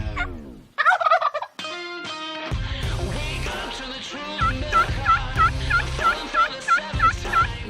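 A wild turkey gobbles several times in quick succession, loud and nearby, with rattling calls breaking over a background of steady noise.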